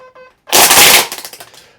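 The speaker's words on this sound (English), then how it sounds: "that noise you heard was it clipping the string" Ryobi 18-volt, 13-inch cordless string trimmer starting up, a short electronic beep followed by a loud burst of rapid slapping and clattering as the line is clipped, then fading rattles.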